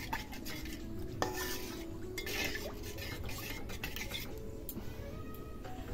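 Dal being stirred and cooked in a kadai, with a spoon scraping and clinking against the metal pan amid a soft bubbling, sizzling background, steady and close with no talking.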